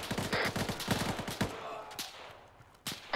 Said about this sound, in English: They're shooting me to the ground.